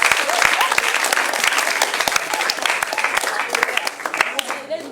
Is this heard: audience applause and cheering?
yes